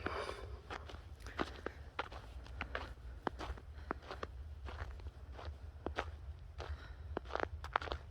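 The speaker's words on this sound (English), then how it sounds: "you can hear my feet scrunching" Footsteps crunching through snow on a slippery park road in Belgrade's Kalemegdan Fort at night, a steady walking rhythm of close, crisp scrunches over a low rumbling background.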